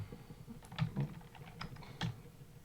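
Close computer keyboard typing: a loose run of soft key clicks and a few heavier taps over about two and a half seconds, quiet, with no one talking.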